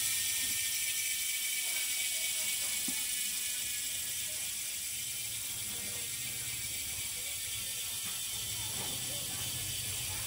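A Giant OCR 5700 road bike with a full Shimano Sora groupset and a two-chainring crankset, shifting gears as the freewheel ratchet buzzes steadily in a fine continuous clicking whir for several seconds, close and moderately quiet.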